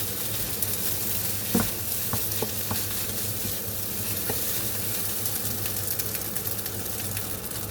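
Egg being stirred into fried rice in a hot pan, steady sizzling and frying under scraping spatula strokes, close and continuous with a few sharper scrapes, no talking.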